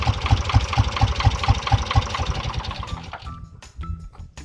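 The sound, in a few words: tractor engine idling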